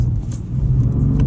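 Car engine drones and pulls under acceleration on a race circuit, a steady close mid-pitched motor sound with slight rises in revs, no talk over it.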